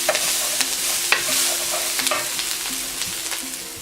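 Ground beef goes into softened vegetables in a pot and fries with a bright, continuous sizzle, broken by repeated scraping and stirring strokes from a spoon.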